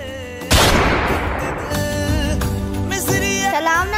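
A single loud gunshot sound effect bursts in sharply and decays over a sustained dramatic music background, with no talking.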